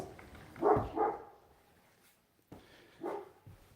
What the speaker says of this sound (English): Hey, Duke, bark on the other side